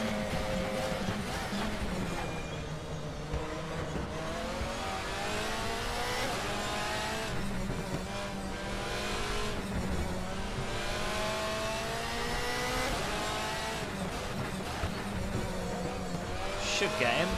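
A DTM race car in the DTM Experience 2014 racing game, with the engine revving and shifting continuously through corners alongside tire squeal under braking, while a voice talks over the steady, loud racing.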